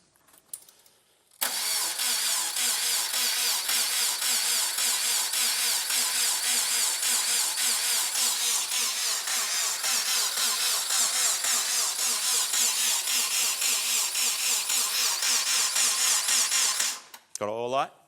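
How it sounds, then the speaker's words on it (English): A Subaru WRX engine with a failed, recently seized motor cranks over on the starter without catching, a loud steady rhythmic churning that runs for about fifteen seconds before cutting off. "I just wanna see if it cranks and sounds healthy"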